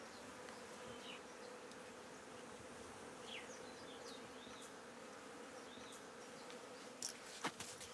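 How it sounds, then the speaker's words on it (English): Bees buzzing in Ethiopia, a steady low drone of many insects filling the air at moderate distance, with a few brief louder clicks near the end. "Be careful not to swallow a bee."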